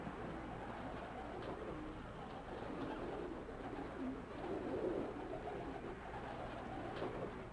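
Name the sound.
pigeons cooing on Harlem rooftops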